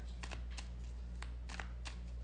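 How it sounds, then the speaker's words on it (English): Tarot cards riffle in several quick, crisp bursts close to the mic, separated by short pauses over a low steady hum, with no voices. "I shuffle all of those cards"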